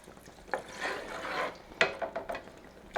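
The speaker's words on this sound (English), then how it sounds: "We're going to add 1 cup of chicken broth." Chicken broth poured into a soup pot for French onion soup, giving a soft, broad liquid wash with a few sharper splashes and clinks near the end.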